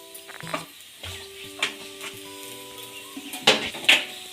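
Okra fry tossed with ground spice powder is stirred in a pan, with soft scraping and sharp metallic clinks of a spatula against the pan over a faint sizzle, the strokes coming irregularly and close up.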